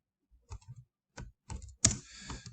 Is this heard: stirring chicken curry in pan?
no